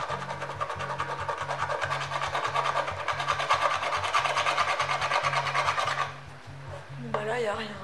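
Rasping, repeated scratches on a scratch-off code printed on a cardboard Birchbox box, steady and close for about six seconds before stopping, with a low rhythmic pattern running underneath throughout.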